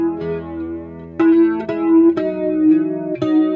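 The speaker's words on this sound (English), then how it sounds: "So you can see how our chorus has gotten to a much more vocally sound." An electric guitar picks a short melodic line through an Asheville Music Tools ACV-NOS chorus pedal with its wet signal phase reversed, giving a wavering, slightly hollow, vocal-like tone; played alone.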